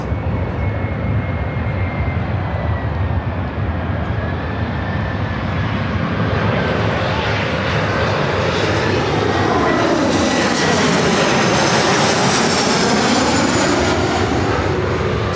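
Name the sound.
Embraer E175 jet airliner arriving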